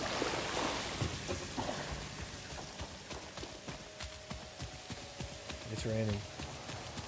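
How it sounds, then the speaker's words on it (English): Steady rain hisses in the game Satisfactory, with scattered drip-like ticks and a low tone humming underneath, under some movement sounds. "It's raining."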